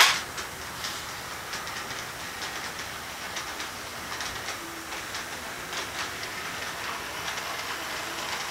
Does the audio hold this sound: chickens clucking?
no